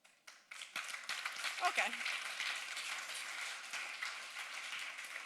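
An audience claps hands at a tech talk on the hidden costs of AI, starting with a few scattered claps that build into steady, moderately distant applause, with a brief spoken word near the start.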